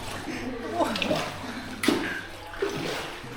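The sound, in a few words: water dripping from stalactites inside Dot Cave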